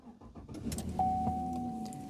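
A 2016 Chevy Silverado 1500 work truck starting up: a brief jingle of keys, the starter turning over, then the engine catching and settling into a steady idle, heard from inside the cab.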